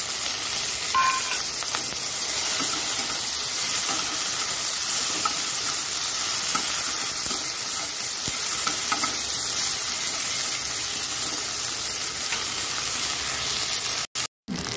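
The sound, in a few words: bitter gourd and chilli frying in hot oil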